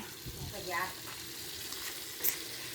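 Fermented sour fish frying in a pan of oil gives a steady, fairly quiet sizzle throughout, with brief clinks and a faint voice in the background.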